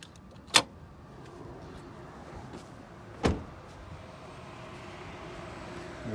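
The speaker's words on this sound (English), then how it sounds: "Go ahead and unlatch the hood." A 2006 Hummer H2 Limited hood being unlatched and popped: two separate sharp clunks, the first louder, about three seconds apart over quiet outdoor background.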